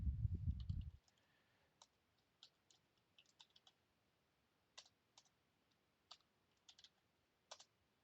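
Typing on a computer keyboard, sparse quiet clicks and short bursts of keystrokes spread irregularly across the clip after a brief low thump at the start.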